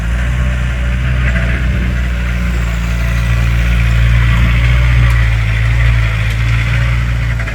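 A Yanmar EF514T tractor engine runs steadily while leveling soil on a farm field, a loud, continuous low drone with no pauses and no voices.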